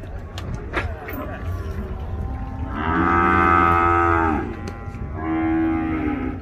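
Cattle at a livestock fair in Ouricuri, Pernambuco, give two long, loud moos, one of about a second and a half and a shorter one after it, over a busy outdoor background of crowd noise.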